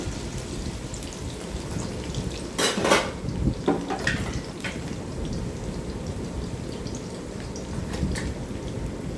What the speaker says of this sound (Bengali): আলুগুলো সব দেওয়া হয়ে গেলে একবার নেড়ে চেড়ে দেব।